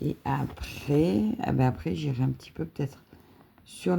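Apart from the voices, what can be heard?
No distinct noise like a dog, phone or traffic.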